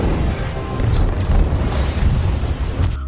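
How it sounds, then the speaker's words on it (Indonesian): A room explodes in an alien robot attack in a film: a loud, heavy boom with deep rumbling and scattered debris crashes, sustained for several seconds with no voices over it. "meninggal karena ruangannya meledak"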